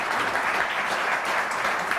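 Loud, dense crowd applause fills a garage for the whole stretch, steady and enveloping with no pauses and no talk over it.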